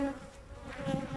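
Honey bees buzz at an opened hive during routine colony inspection, a soft, steady drone close by with a few louder passes.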